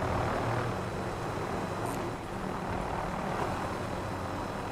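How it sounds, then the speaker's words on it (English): A helicopter in Fortnite drones steadily up close, a loud continuous engine and rotor roar with a broad noisy whoosh that holds level throughout, with no talking. "Oh man, I nearly damaged my heli."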